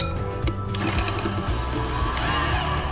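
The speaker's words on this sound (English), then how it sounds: "The softer it is, the easier it will be to mix up with your mixer." Electric hand mixer beating two 8-ounce packages of still-cold cream cheese for cheesecake filling, a steady continuous whirring drone with uneven rattling as the beaters catch, loud and close throughout.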